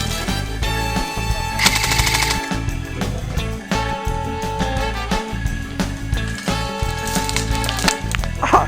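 Airsoft gunfire during a game, rapid bursts of plastic BB shots crackling continuously at close range over a dense, busy background.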